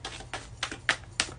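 Tarot cards being reshuffled by hand give five evenly spaced, crisp riffling snaps of moderate loudness, about a third of a second apart, with no talking.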